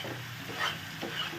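Spices being stirred in hot oil in a pan as they fry, giving a steady close sizzle with soft scraping strokes of the spoon throughout.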